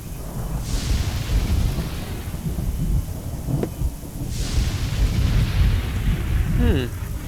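Rolling thunder crashes during a storm in the video game Chaos on Deponia, two broad booming rumbles over steady low roar, with a sharp crackle of lightning between them.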